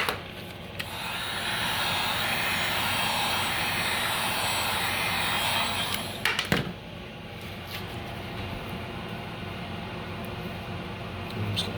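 A heat gun blows hot air onto vinyl wrap on a 2007-2014 Chevrolet Suburban, Silverado or Tahoe truck, a steady loud whooshing roar that runs for about six seconds before cutting off and leaving a quieter background.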